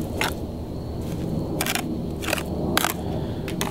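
Anchor bolts are pushed into wet mortar, giving several short crunching, gritty squishes spaced irregularly over a low background hum, close and fairly quiet, with no talking.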